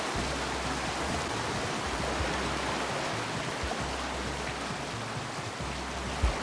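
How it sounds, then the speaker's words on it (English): Water rushes steadily in the video game Rain World, a dense, even hiss like a stream or heavy rain that runs the whole time, with a low hum of game music underneath. "It's a little bit hard to hear over the sound of water."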